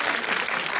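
A brief burst of audience clapping at a film screening event at the Korean Film Archive's Cinematheque, opening a Hong Kong film program, dense and close for under a second.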